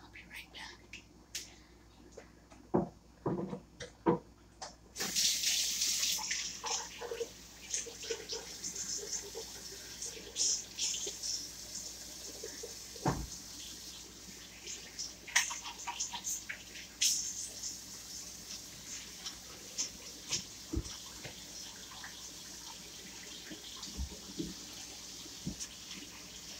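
Water runs from a tap into a kitchen sink, a steady broadband splash starting after a few seconds and continuing under occasional clinks and handling noises, close by, with faint murmured speech.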